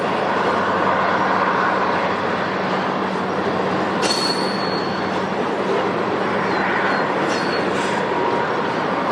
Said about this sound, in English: This train is headed to Bayview Junction, where it will continue east to Burlington.